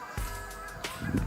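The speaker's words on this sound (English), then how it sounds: "you can hear the geese in the background." Geese honking in the distance over a lake, a few separate calls rising over steady outdoor background noise.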